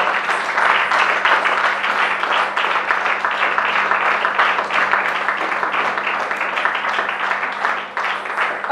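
A large audience at a dance tribute performance breaks into loud, dense, sustained applause that holds steady for several seconds before easing slightly at the end.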